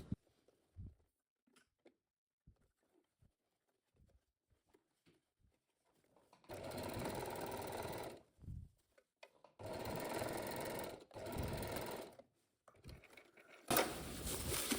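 A sewing machine stitching a blouse armhole closed, running in three loud bursts of rapid whirring stitches separated by pauses filled with small clicks and handling of fabric.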